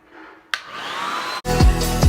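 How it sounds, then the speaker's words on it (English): Handheld blow dryer switching on with a click and running with a steady whooshing hum, then the airflow changes briefly before continuing louder, close by. "Oh, here's my blow dryer. I hate this blow dryer."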